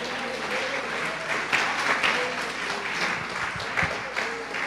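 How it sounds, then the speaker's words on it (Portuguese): A church congregation claps steadily in praise, a dense, even wash of applause that holds at a fairly loud level throughout with no voices over it. "Uma salva de palmas a Ele."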